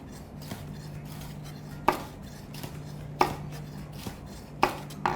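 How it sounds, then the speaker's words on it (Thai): A knife strikes a cutting board in a few sharp, spaced chops, slicing long red chili peppers, against a quiet background with a steady low hum. "เราจะเตรียมหั่นเขาเรียกว่าเครื่องประดับก่อนก็คือพริกชี้ฟ้า"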